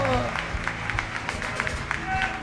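Church congregation at a harvest service clapping together, a brief burst of scattered hand claps with speech and background music murmuring underneath.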